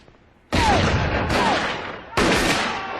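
Gunshots in a TV drama scene: three loud, sharp blasts with booming low ends and ringing tails, evenly spaced and close, each one cutting into a lingering rumble.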